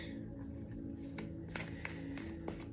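Moonology oracle cards being shuffled by hand, a soft steady papery riffle with a few sharper flicks, faint and close in a quiet room.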